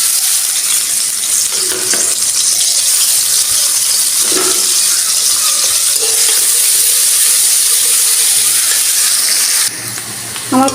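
Onions and chillies dropped into a little hot oil, a loud, close, continuous sizzle with occasional scraping stirs, dipping slightly near the end.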